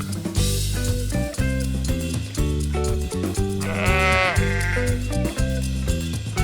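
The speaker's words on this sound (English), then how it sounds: "Sheep." Sheep bleating in a children's animal-names lesson, a clear bleat rising in the middle over steady, loud background music, with no talk.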